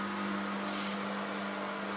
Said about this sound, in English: sorry for the noise, that's the wash machine.